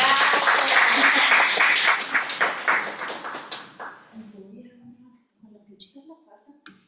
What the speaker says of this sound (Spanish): Recibamos con un fuerte aplauso a la doctora Paula Leal.